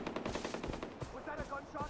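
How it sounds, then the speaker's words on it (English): Automatic gunfire in the video game Far Cry 4, a rapid burst of shots followed by scattered reports, with game voices in between. "Was that a gunshot?"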